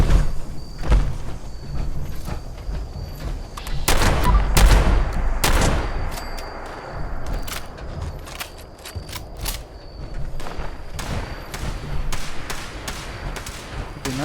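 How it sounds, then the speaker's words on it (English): A Gatling gun fires in Fallout 76, loosing bursts of rapid shots that crack through a busy game soundscape. The clusters of gunfire are loudest near the middle and recur in sharp volleys throughout. "He's using a Gatling gun"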